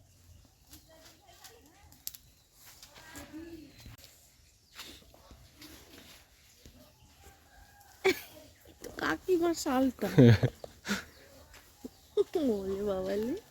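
In a village at morning, chickens cluck and a rooster crows nearby, with repeated calls growing louder toward the end, while people talk quietly in between.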